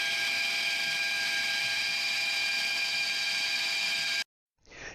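A saw with a miter gauge cuts the lid free from a handcrafted wooden recipe box, a loud, steady whine lasting about four seconds before it stops abruptly, followed by a faint brief sound.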